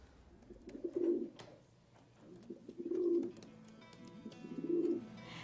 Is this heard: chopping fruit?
no